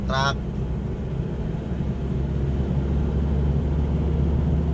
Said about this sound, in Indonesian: truk.